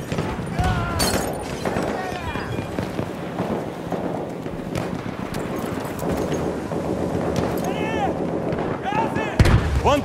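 Artillery fire booms in a Battlefield 1 battle, with distant explosions and gunfire under a dense, continuous din of wind and combat noise while voices shout throughout.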